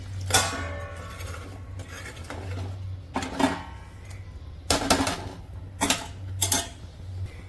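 A metal spoon clanks and scrapes against a cooking pot of boiling prawn curry in several short bursts, separated by pauses over a low steady hum.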